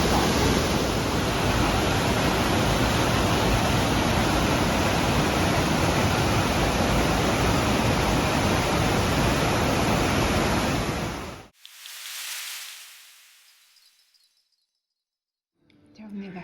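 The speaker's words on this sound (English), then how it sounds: "So this is how the waterfall works" Waterfall at Chuzenji Lake in Nikko, a loud steady roar of rushing water close by that cuts off abruptly, followed by a brief fading wash and near silence.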